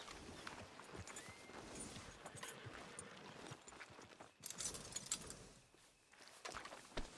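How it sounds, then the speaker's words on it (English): Horse hooves clip-clop at a walk in the Red Dead Redemption 2 video game, a faint, uneven run of soft hoofbeats over quiet ambient background. "Are you gonna mount that new horse of yours or not?"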